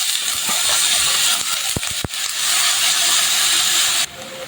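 Sliced snake gourd and potato fry in a pan with a little turmeric, a loud, steady sizzling hiss close by, broken by a couple of sharp clinks of a utensil before the sizzle drops slightly.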